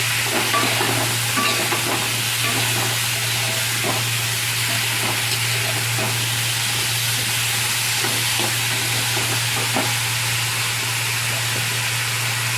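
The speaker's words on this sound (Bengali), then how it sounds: "কেটে রাখা সবজিগুলো সব দিয়ে দিচ্ছি, দিয়ে ভালো করে নেড়ে চেড়ে নেব" Chopped vegetables, banana flower for a curry with hilsa fish head, stirred in hot oil with turmeric in a pan: a loud continuous sizzle and hiss with repeated scraping strokes of the spatula, close and alone.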